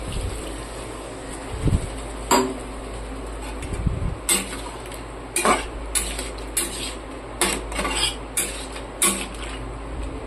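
Metal pot and cutlery clatter sharply in a home kitchen as a lid is handled and set over a cooking pot after a splash of water, with repeated clinks spread over ten seconds and a quiet background.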